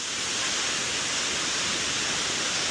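Waterfall at Wang Ma, a constant loud hiss of rushing, crashing water with no break, close by.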